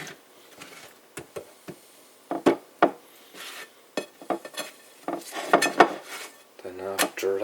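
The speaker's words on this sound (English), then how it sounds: "Then after that, put the rest of the mayo on there." Mayonnaise spread onto pita bread halves for a mortadella sandwich, with repeated knife scrapes and clinks of cutlery against a dish and plate, close and irregular, with no voices.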